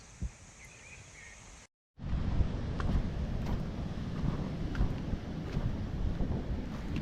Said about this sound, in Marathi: सकाळी सकाळी वारा भरपूर आहे आज